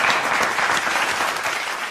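Studio audience at a Pakistani chat show applauding to welcome the actress Meera: a short, loud burst of dense clapping, steady and close, with no speech over it.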